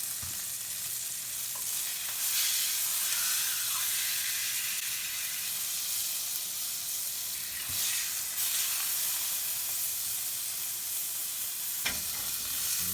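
Beef fillet for a Wellington sears in a hot pan, a steady loud sizzle and hiss running throughout with a few brief clatters, no voices.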